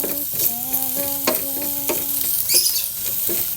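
Potatoes frying in a pan while being stirred, close sizzling with scraping and knocks of the utensil, along with brief tonal squeaks and a short burst of higher noise.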